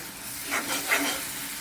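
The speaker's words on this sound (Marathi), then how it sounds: "आता याच्यावर ती पाट्यावर वाटलेली लाल मिरची दोन चमचे टाकायची" Two spoonfuls of stone-ground red chili go into a pan of goat blood fry, a steady close sizzle of frying with a couple of brief stirring swells, and no one speaking.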